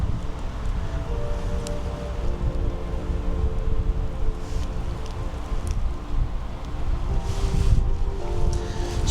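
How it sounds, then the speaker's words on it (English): Wind gusts through pine trees in a wood on a windy day, a steady loud roar and rustle of moving branches with buffeting wind noise on the microphone throughout, no voices. "Sounds of the pines in the wind and the snowdrops."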